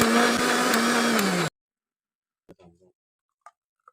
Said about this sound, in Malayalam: കൂടി മിക്സി ജാറിലിട്ട് ജ്യൂസാക്കി എടുക്കണം.